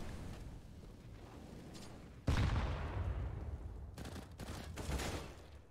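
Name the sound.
gunfire in Counter-Strike video game match on Nuke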